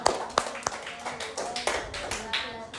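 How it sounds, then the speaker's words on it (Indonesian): Scattered, light hand clapping for a student group in a classroom, a few irregular sharp claps rather than a full round, fairly quiet. "tepuk tangan untuk kelompok 2"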